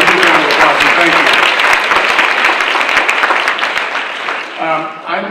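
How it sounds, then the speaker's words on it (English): Loud, dense applause from a large audience at a Democratic party chairs' breakfast, sustained for several seconds before tapering off as a voice begins speaking near the end. "Give them a huge round of applause,"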